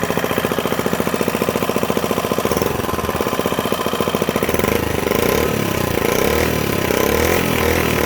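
Freshly assembled microbike's small engine idles close by, a loud rapid steady putter with a buzzy rattle, the firing rhythm thickening slightly midway, with no speech.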